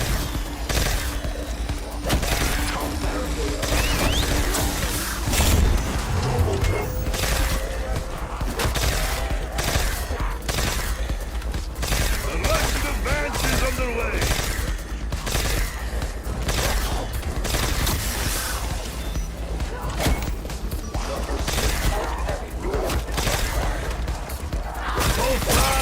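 Automatic gunfire in Black Ops 4, firing in short bursts of three rounds, with repeated loud cracks spread through a busy, dense game soundscape and some talk beneath.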